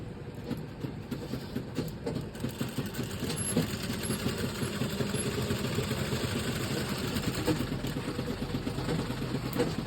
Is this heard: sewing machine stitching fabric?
yes